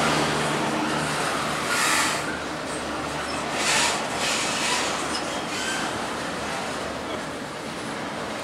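Intermodal freight train rolling past on the Allegheny line near Horseshoe Curve, a steady broadband rumble with low drone and periodic swells of wheel and wagon noise throughout, fairly close and continuous.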